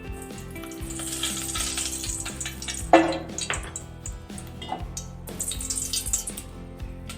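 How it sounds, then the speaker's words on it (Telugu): Ghee sizzling in a pan as halwa cooking begins, a soft steady hiss with light crackle and a few clinks of a utensil, fairly quiet and without talk. "ఇప్పుడు ఒక స్పూన్ నెయ్యి వేసుకుందాం"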